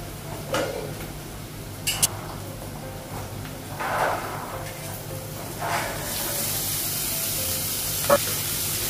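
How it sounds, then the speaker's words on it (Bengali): Chickpeas go into a pan of frying onion, and the sizzle builds with stirring scrapes and utensil clinks; the hiss swells louder and brighter in the final seconds, with no talking. "ছোলাটা লাগাবো"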